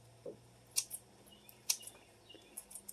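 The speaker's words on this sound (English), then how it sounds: "so I'm just going to take my shears" Kitchen shears snipping a thin brick of ingredient into a dish for a Dutch oven Frito pie, a few quiet, crisp snips spaced irregularly over a faint low hum.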